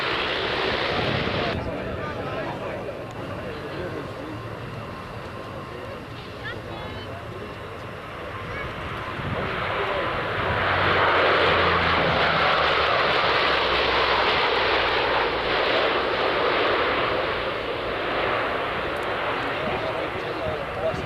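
At the 1994 Mildenhall Air Fete airshow, an aircraft engine roars during takeoff, a broad, sustained rush that swells louder midway and holds, heard from a distance over crowd noise and talk.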